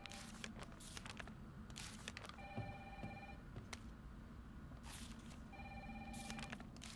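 A telephone ringing inside a building in the Resident Evil 3 Remake video game, faint repeated electronic rings in short bursts over a low ambient rumble and soft rustling.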